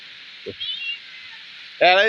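A domestic cat gives one loud, close meow near the end, after a faint brief sound early on over a steady low hiss.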